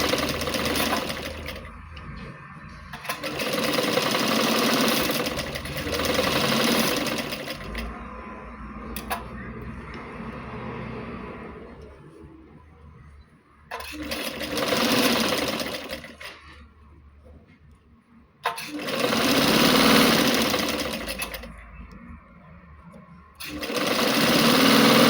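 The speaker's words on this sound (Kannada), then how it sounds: "ನೋಡಿ ನಾನು ಇನ್ನೊಂದು ಸ್ಲೀವ್ನು ಅದೇ ಥರ ಸ್ಟಿಚ್ ಮಾಡ್ಕೊತೀನಿ" A sewing machine stitches a kurti sleeve in bursts, its fast rattling run starting and stopping several times with quieter pauses between, close and clear throughout.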